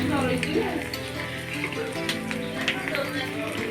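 Prawn bhuna masala sizzles steadily in a pan with chili, cumin and coriander powder, a continuous close frying hiss running under a voice that speaks throughout.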